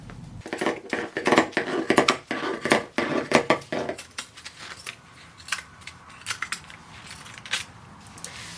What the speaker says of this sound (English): It's really hard to cut through this eyelet, by the way. It just adds a little extra thickness.